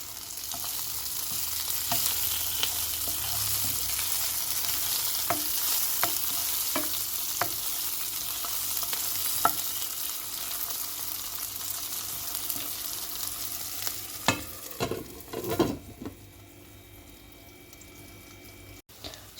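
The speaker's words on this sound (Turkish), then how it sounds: "Ve kapağını kapatıp soğanlarımız kızarıncaya kadar pişirelim." Red onions sizzle and fry in a covered pan, with steady crackling throughout and intermittent scraping clatters of stirring, a few sharper knocks near the end as the lid or spoon moves.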